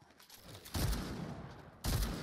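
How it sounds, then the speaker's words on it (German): Gunfire in a shooting video game, apparently a shotgun, during a duo cash cup match: two loud, sharp blasts close by, one at about three-quarters of a second and another near the end, with lighter game noise between. "So ein Schuss."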